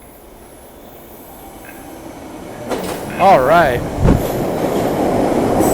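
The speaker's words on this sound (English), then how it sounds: "Look at the train come around the bend." A train rolls around a bend at a station platform, a steady close rumble that builds, with sharp wheel squeals and clacking; a person speaks briefly.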